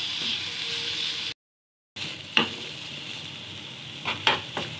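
Masala spices frying in a pan for a vegetarian chana dal, a steady sizzle broken by a short silent gap, then scraping stirs and clinks of the spoon against the pan, with no talking.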